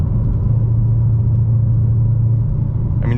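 A deep, steady exhaust rumble drones continuously from a 2024 Mustang GT with a Whipple supercharger cruising along in track mode, loud and low-pitched, with a brief higher burst at the very end.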